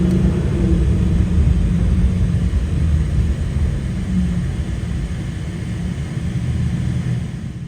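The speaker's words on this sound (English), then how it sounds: "Driving the STO up that ramp" Lamborghini Huracán STO V10 creeping up a concrete ramp in Dubai, a steady low engine rumble held throughout at close range without much change in pitch.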